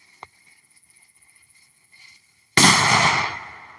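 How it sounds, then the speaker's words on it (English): A single loud firecracker blast goes off outdoors, a sharp broadband bang that decays over about a second after a quiet stretch, with a faint click earlier. "All right, one more firecracker."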